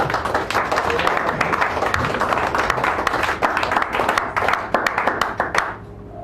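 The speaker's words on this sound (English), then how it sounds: "Give him a real nice round of applause" A small cafe audience at a poetry reading claps for a poet, individual hand claps distinct and close, a crisp patter that holds steady before trailing off near the end.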